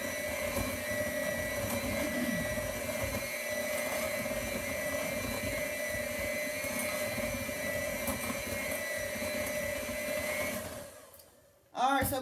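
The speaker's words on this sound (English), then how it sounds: "Just whisk that." An electric whisk blends banana nut bread ingredients with a steady, loud motor whine for about eleven seconds before cutting off abruptly.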